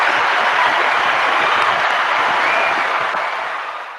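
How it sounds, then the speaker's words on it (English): Applause from a small audience at a live podcast taping, a steady wash of clapping hands that stays fairly loud and then gradually fades toward the end. "Ryan, we need a round of applause for that one"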